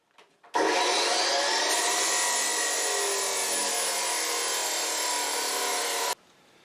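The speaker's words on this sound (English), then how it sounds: "So then I'm going to cut my flat bar off like that." Steel flat bar being cut into a roughly five-inch piece for a pin hitch adapter, a loud continuous grinding cut that runs steadily for about five and a half seconds before stopping abruptly, with no talking.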